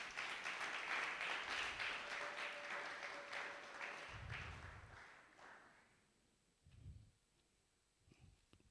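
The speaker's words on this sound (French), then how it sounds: "Est-ce qu'on peut acclamer très fort pour Jésus?" A church congregation at a French-language Sunday praise service applauds and cheers loudly for Jesus, a dense burst of clapping that lasts several seconds and then fades to a few scattered claps and taps.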